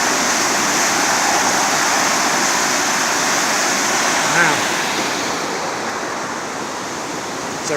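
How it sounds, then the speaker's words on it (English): A raging creek too swollen to cross on the Wales Coast Path in rural sheep country, a steady loud broadband rush of water that runs on unbroken and eases slightly toward the end. "This is the creek that I couldn't get across."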